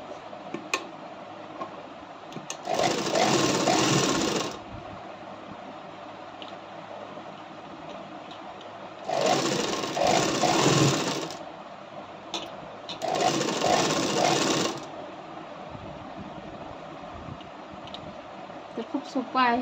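A sewing machine stitches a katori blouse sleeve in three steady runs of whirring, separated by quiet pauses with faint handling sounds.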